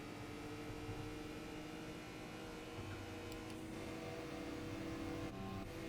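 Race cars accelerating in the Gran Turismo 4 video game during a Euro hot hatch league race, a steady droning engine whine holding at a constant level, faint overall.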